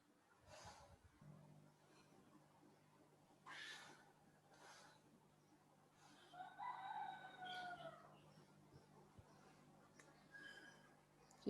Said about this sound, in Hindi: किधर मुर्गा इतनी अच्छी बांग दे रहा है?